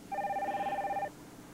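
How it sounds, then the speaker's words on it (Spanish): An old-style telephone bell rings once in a steady electronic trill lasting about a second, in a quiet Mexican home interior from a 1997 telenovela, then the room falls quiet. "Pásame el teléfono, Mercedes."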